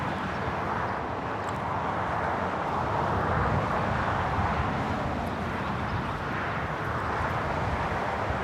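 An airliner at Los Angeles LAX taking off on runway 25 right, a steady, loud broadband engine roar that holds throughout, with wind noise and no talk.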